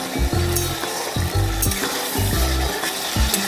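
Meat and potatoes being stir-fried in a spice paste, a steady loud sizzle broken by repeated scraping strokes of a spoon or spatula against the pan, close and continuous with no talk.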